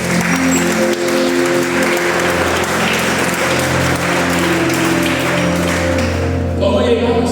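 Church congregation applauding steadily and loudly throughout, a dense wash of clapping with scattered voices and a low sustained musical tone beneath, swelling slightly at the end.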